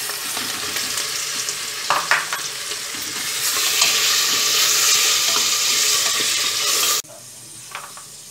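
Bone-in mutton with green chillies, mint and coriander frying in oil with ginger-garlic paste for Hyderabadi haleem, a steady loud sizzle with stirring scrapes and clinks, the hiss swelling midway before cutting to a quieter simmer near the end.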